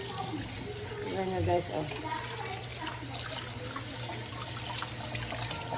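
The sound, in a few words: tap water running while washing meat in a sink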